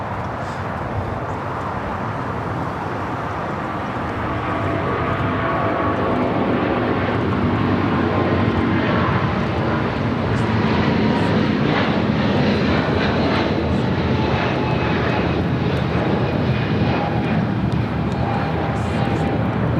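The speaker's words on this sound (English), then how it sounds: "This is United Airlines 1170 taking off to Honolulu on a 777." United Airlines Boeing 777 twin-engine widebody taking off from LAX bound for Honolulu, a loud, steady jet engine roar that swells after a few seconds and holds broad and sustained, with no speech over it.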